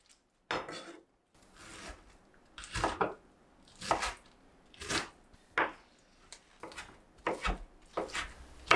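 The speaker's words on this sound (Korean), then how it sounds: "토마토 2개도 양파와 비슷한 크기로 다져요." Knife chopping two tomatoes into small pieces on a cutting board for shakshuka, with about ten crisp, evenly spaced cuts landing close and clear with no talk.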